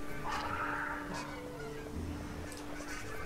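Birds honk in the video game Broken Age, a few faint goose-like honks spaced out over a quiet background with a steady low hum, no talking.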